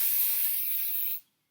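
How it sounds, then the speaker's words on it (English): Kenra working hairspray is sprayed onto curled beach-wave hair, a single close, steady aerosol hiss lasting about a second before cutting off sharply into silence. "I'm going to finish off again with the Kenra working spray"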